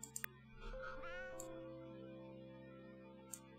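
Cats meowing in a game: sharp clicks at the start, then a rising meow that settles into a long, steady, quiet tonal drone.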